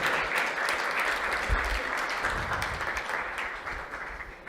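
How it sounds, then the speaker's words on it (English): Audience applause at a live devotional gathering in San Francisco, a dense, even wash of clapping that holds steady for several seconds before easing slightly, heard from within the room. "So let us give a round of applause again for His Grace Ram Vijay Prabhu."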